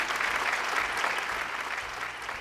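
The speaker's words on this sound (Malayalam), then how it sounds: "നല്ലൊരു കയ്യടി" An audience of local friends at a Malayalam TV show location claps warmly, a dense, steady burst of applause that holds at an even level throughout.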